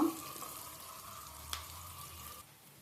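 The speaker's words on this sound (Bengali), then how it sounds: "পেঁয়াজ কুচিটা একটু ভেজে নেব" Chopped onion frying in a pan gives a faint, steady sizzle with a single brief click midway, fading slightly near the end, with no one talking.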